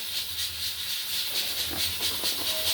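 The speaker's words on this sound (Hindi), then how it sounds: "यखनी मैंने बॉईल होने रख दी हुई है, प्रेशर कुकर में रखी है" A pressure cooker boiling yakhni gives off a continuous, fairly steady steam hiss with a faint low rumble beneath it, moderately loud and heard alone without speech.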